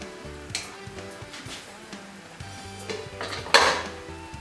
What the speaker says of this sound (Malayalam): കുക്കർ അടയ്ക്കുകയാണ്,